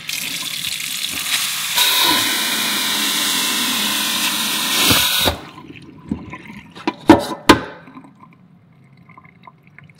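Water sprays hard onto the back of a Pelican CE1180 Vault Series iPhone case in a water resistance test, a loud steady rushing gush that stops abruptly, followed by a few scattered splashes and drips.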